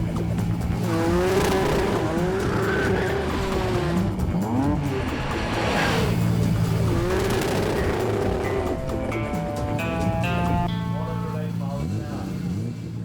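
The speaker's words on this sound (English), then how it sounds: "So now we're looking at the white R33 Skyline of GTR Owners Club chairman John Fuggles." A white R33 Nissan Skyline GT-R with about 720 horsepower runs at a 2004 car event, its engine droning loud and continuous with rising and falling revs and tyre squeal throughout.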